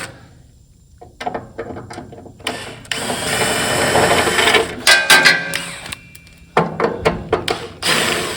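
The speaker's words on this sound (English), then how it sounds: "Now you just take your T30 Torx and hit these 4 bolts right here." A T30 Torx driver taking out four bolts from a side radar box on a Freightliner Cascadia truck: scattered clicks and taps at first, then sustained whirring and ratcheting runs, close by.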